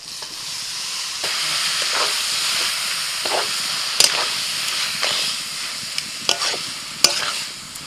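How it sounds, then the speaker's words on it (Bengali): Boiled cabbage tipped into a pan of sizzling chopped tomato and spice masala, a steady soft frying hiss with scattered stirring scrapes and clinks, fairly quiet and close, with no speech. "টমেটো কুচি, মশলা কষানো হয়ে গেছে, এবার সিদ্ধ করে রাখা কপি দিয়ে দিচ্ছি।"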